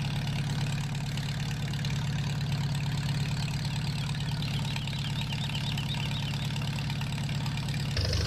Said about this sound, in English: that sound sounds more like the tractor